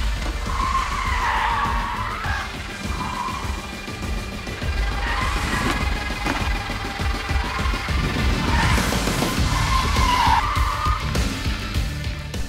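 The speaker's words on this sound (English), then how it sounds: "emergency braking, autonomous braking from 50 to 0 in all Volvos is standard" A Volvo car doing an autonomous emergency stop from 50 at a safety-system demonstration, with tires skidding and squealing in repeated bursts over a rumbling background.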